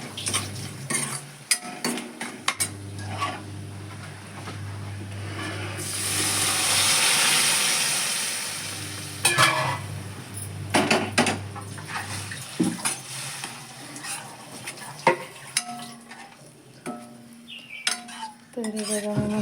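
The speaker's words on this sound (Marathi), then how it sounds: "हे आपण आता सगळं ढवळून द्यायचा आणि त्याच्यानंतर आपली भाजी घालायची." A spoon scrapes and clinks against a cooking pot as spices and vegetables are stirred for a Konkan-style vegetable curry, with irregular metallic knocks and a brief rush of water-like hiss in the middle.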